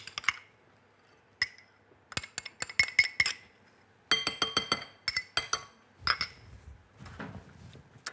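A utensil stirs clafoutis batter made with thick cream in a bowl, giving bright, close clinks and taps against the rim in irregular clusters with brief quiet gaps and no talking.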